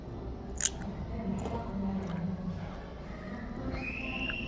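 Close, crunchy chewing of crisp garlic bread snack, with soft irregular bites and squishy mouth sounds, one sharper crunch early on and a faint background tone.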